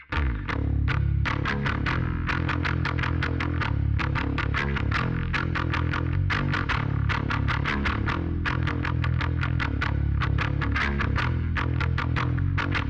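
A standard P bass through a BOD drive and compression: a gritty, driven bass line playing steady, rapid repeated notes, loud and close throughout with no talk.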